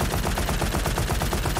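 Rapid automatic gunfire from a DOOM weapon mod in Garry's Mod, a fast, even stream of loud shots repeating without pause throughout.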